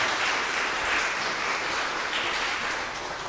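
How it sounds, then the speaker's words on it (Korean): A church congregation applauds at the close of a prayer for a married couple during a worship service. The steady, dense clapping fills the whole stretch at an even level, with no talking. "하나님께 영광의 박수 올려드리겠습니다"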